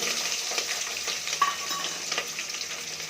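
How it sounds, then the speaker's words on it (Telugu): Chopped onions frying in a pan for masala rice, a dense continuous sizzle with light crackles and stirring scrapes, close and steady throughout. "తర్వాత కట్ చేసిన ఉల్లిపాయ ముక్కలు"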